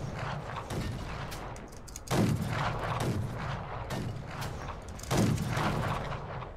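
Heavy weapon in Fallout: New Vegas fires two loud, booming shots a few seconds apart, each followed by a rumbling tail, over a continuous mechanical in-game background.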